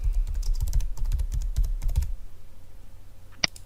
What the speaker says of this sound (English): In the search box, just type in QoF timeline,